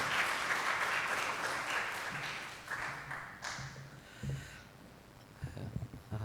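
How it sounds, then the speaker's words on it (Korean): A church congregation applauds to welcome a missionary to the pulpit. The clapping is dense, steady and moderately loud at first, then thins and fades into scattered claps and light room noise. "우리 다 같이 한번 박수로 환영하시겠습니다."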